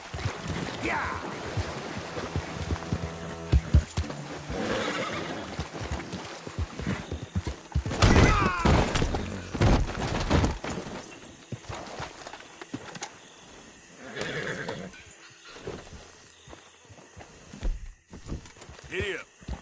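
Horse in Red Dead Redemption 2 with rhythmic clip-clopping hooves, occasional snorts and a brief whinny, heard under shouting voices and game sounds, varying from close to farther off.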